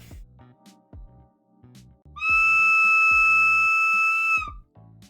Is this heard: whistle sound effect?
yes